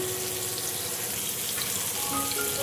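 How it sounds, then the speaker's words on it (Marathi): Surmai and bombil fish pieces coated in rice flour and spices fry in oil, giving a continuous, dense sizzle with no voices. "असे सगळे एक एक एक एक करून मी सगळे पीस तेलामध्ये टाकून घेते"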